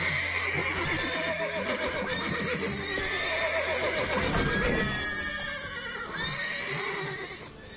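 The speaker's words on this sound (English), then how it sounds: "Gotta call in all the horses before they wake the guards." Horses in the video game Witcher 3 neigh and whinny repeatedly over a dense backdrop of hoof clip-clops and game ambience, loud and continuous.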